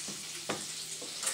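Philly topper mixture sizzling and reducing in a pan, a soft steady frying hiss with a few faint pops and stirring scrapes, quiet and close.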